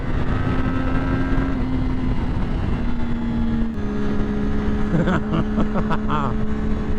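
A 2012 Triumph Daytona 675 engine drones steadily while riding on an interstate, with a sustained tone that shifts pitch partway through over constant wind rush. No talking is heard.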